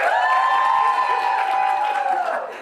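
A school crowd cheers loudly for the coolest hat in the room. The sustained group shouting and applause holds steady, then tapers off at the close.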